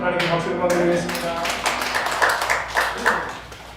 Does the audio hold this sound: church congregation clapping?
yes